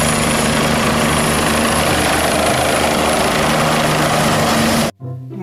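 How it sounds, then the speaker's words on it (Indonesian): Toy helicopter producing a loud, continuous rotor whir and chop, which stops abruptly just before the end. "Helikopter."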